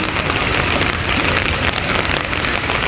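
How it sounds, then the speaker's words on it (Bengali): Steady, dense rain pours down over a flooded college campus, a loud even hiss of drops on water and surfaces with no break and no voices. "তানভীর ভাই, আপনার এই বৃষ্টিতে এই বর্ষণের জন্য, এই বন্যার জন্য আপনার অনুভূতি কি?"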